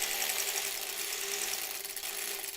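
An old 1940s sewing machine runs a short back tack, its rapid, even mechanical chatter close and steady throughout with no talk.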